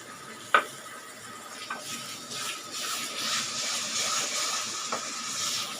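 A freshly ground masala paste sautés in a pan for rajma gravy with a soft, steady sizzle. A few sharp knocks of a utensil against the pan punctuate it, and the hiss grows a little denser toward the end.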